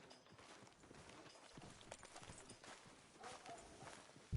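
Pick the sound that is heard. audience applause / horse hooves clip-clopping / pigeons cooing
horse hooves clip-clopping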